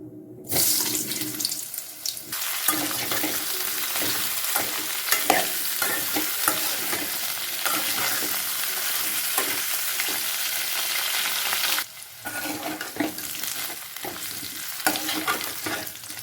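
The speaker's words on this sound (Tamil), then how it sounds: "எண்ணெய் நல்லா சூடாயிடுச்சு உள்ளக்கிழங்கு காலிஃப்ளவர் நல்லா ஃப்ரை பண்ணி எடுத்துக்கிறேன்" Potato and cauliflower fry in hot oil, making a loud continuous hiss and crackle close by that drops briefly near the end and then resumes, with no speech.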